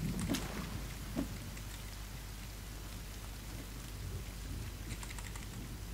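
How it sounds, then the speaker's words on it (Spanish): Steady rain falls in the survival video game The Forest, a constant close patter, with a few sharp clicks near the start that sound like keyboard taps. "Ya empecé a llover otra vez."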